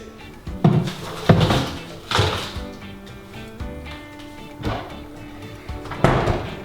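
Several sharp knocks and clunks of a door or cabinet being handled, opened and shut in a few bursts over a low room hum.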